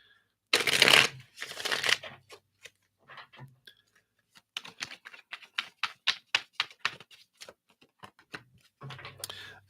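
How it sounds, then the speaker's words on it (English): Tarot cards being reshuffled by hand, with a loud riffle near the start, then a rapid series of crisp card slaps and flicks, close and alone before another brief shuffle at the end. "All the rest of these, let me just reshuffle here."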